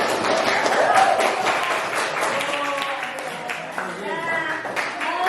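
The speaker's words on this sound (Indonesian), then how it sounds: "Ya, berikan aplaus untuk kalian." Classroom applause for students who have just finished a presentation on social harmony, many hands clapping in a steady, fairly even patter across the whole stretch, with voices talking underneath.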